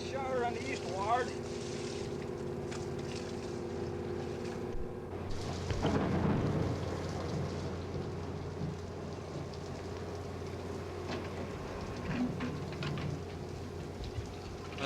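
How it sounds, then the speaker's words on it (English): Steady summer thunderstorm rain hissing over a cruising boat's engine drone, with a deep rumble of thunder rolling in midway; a voice speaks briefly at the start. "A summertime cruise like this one often encounters a few thunderstorms, but a little rain doesn't slow the pace much."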